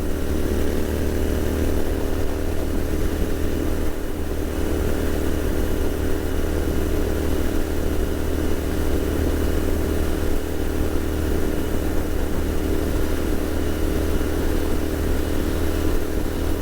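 A Royal Enfield Continental GT motorcycle cruising steadily at about 70 mph, its engine drone loud and constant under heavy wind rush for the whole stretch, with no voices.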